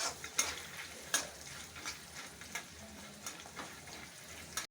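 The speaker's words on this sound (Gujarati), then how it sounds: "હવે થોડું સાંતળી દઈએ।" Dry coconut chips sautéing in a pan while being stirred, with light scraping and clinking of a spoon against the pan over a soft sizzle, a few sharper knocks standing out.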